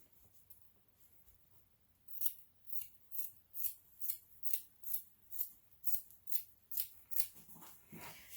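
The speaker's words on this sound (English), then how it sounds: "I'm just going to cut out a piece of fabric." Scissors snip through a piece of fabric during a repair of ripped jeans, about a dozen crisp, evenly spaced cuts close up after a quiet start, with no talking.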